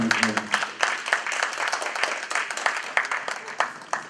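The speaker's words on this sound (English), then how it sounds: "Let's give him another round of applause." Conference audience applause fills the room with dense, steady clapping, moderately loud, peaking in bursts with a few sharper individual claps, no voices over it.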